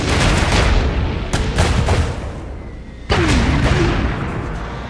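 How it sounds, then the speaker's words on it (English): Artillery fire in the Iron Harvest video game: a rapid series of heavy booming blasts and gunfire, loud and close, with one large impact near the end and a brief whistling streak. "We're taking artillery fire!"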